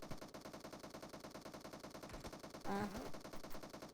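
Automatic gunfire from PUBG Mobile rattles in rapid, evenly spaced shots that form a steady, fairly quiet stream, with a brief sharper burst near the end.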